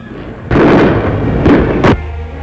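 Two or three sharp, booming gunshots ring out in quick succession during the 1944 Paris uprising, loud and echoing, with a low rumbling tail between them.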